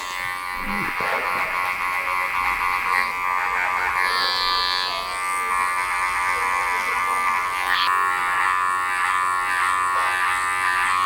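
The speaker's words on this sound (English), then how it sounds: "Now I'm just going to double check clipper work from different angles" Electric hair clippers buzz steadily throughout a very short classic British barbershop haircut, a continuous close whine with slight shifts as the blades move over short hair.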